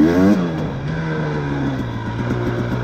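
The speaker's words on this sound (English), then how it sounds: "Little wheelie for you." A motorcycle engine revs high during a wheelie, then drops to a steady lower drone with a pulsing, throbbing note, loud and close as the bike rides on.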